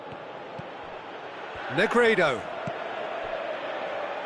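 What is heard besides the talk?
football stadium crowd reacting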